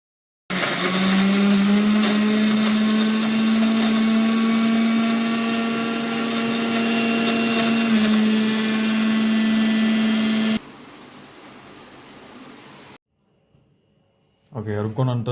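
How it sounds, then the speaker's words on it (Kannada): A mixer grinder runs loud and steady for about ten seconds, grinding ingredients for bread pakoda in a village kitchen, then its pitch drops as it winds down, followed by quiet and a brief voice. "ಮಿಕ್ಸರ್ ತಂದು ಅದ್ರಾಗ ಹಾಕೊಂಡು ರುಬ್ಕೋರಿ"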